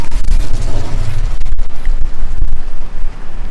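Incendio fire spell cast in Hogwarts Legacy, a loud burst of roaring flame with booming, crackling bursts that fill the scene and sustain dense rumble for several seconds, without any voices.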